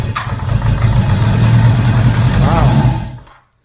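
A 1973 Honda CB350F motorcycle engine fires and runs with a steady, close, throbbing rumble for about three seconds, then cuts out abruptly into silence.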